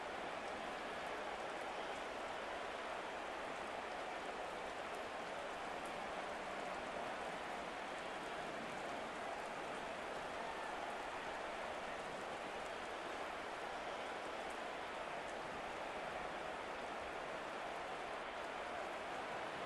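Steady, dense rain hiss throughout a rain-soaked Madden NFL 25 football game between the Cowboys and Giants, broad and even with no breaks, a constant wash of falling rain.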